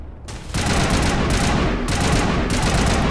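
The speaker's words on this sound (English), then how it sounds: "I really hope that explosion was gonna hurt him." Rapid bursts of gunfire and an explosion from the video game Mass Effect, loud and dense, with sustained volleys cut by short pauses.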